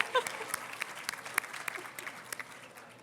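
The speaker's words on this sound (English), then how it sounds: "She gets one clap." Scattered, sparse clapping at an award ceremony, with individual claps standing out against a quiet room, brief and fairly faint as the audience acknowledges the newest lawyer.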